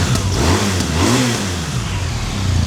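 The engine of a 2019 BMW R1200 GSA Rallye motorcycle is revved up close, giving a short, loud throttle blip that rises and falls before settling back toward idle.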